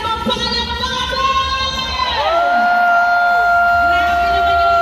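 An arena crowd at a night event shouts and cheers loudly, with sweeping electronic tones sliding through the noise and a loud, continuous roar throughout.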